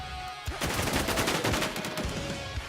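Rapid bursts of gunfire in the video game WarZ AfterLifeZ: a single shot, then a fast automatic string of cracks lasting over a second, and a couple of trailing shots, moderately distant.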